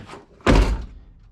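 A car's driver door is slammed hard to get it to latch, giving one loud, close, heavy thunk with a short rattle as it settles.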